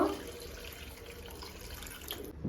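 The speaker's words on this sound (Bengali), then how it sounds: "এবারে আমি জল দিয়ে দেব" Water poured into a cooking pan while making prawn malai curry with powdered milk: a steady running, splashing pour at moderate level that carries on for a couple of seconds and then stops abruptly.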